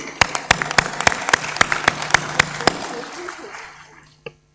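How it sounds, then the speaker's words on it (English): A small group claps in loose, spaced claps that gradually thin out and fade, ending with one last isolated clap. "A big applause to you"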